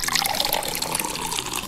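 Blended black cherries and water pour into a hot pot for homemade soda, producing a close, continuous liquid gush and splashing with no speech.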